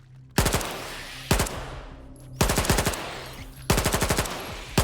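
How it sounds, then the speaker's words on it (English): Automatic gunfire in a STALKER 2 gunfight: three loud, rapid bursts at roughly one-second intervals, each a rattling string of shots followed by a fading echo. "See, again, gunfight"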